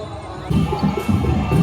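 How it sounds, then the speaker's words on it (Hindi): Large crowd gathered at a tribal Gayata Thakur Joharni festival in Makdi, Kondagaon, giving a dense, continuous murmur of many voices with rhythmic thumping pulses, steady and close throughout. "यहाँ पर आप देख पा रहे हैं गाइस, बहुत अधिक तादाद में भीड़ है।"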